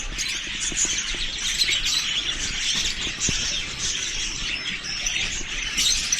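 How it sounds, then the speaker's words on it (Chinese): A dense chorus of parrots in a bird shop at a flower-and-bird market chirps and tweets continuously, many overlapping calls close by, with occasional sharper squawks and wing flutters. "各种各样的鹦鹉"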